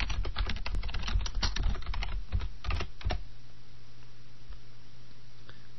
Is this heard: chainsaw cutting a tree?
no